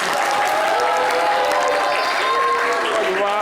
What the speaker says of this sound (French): Applaudissez pour Kwasi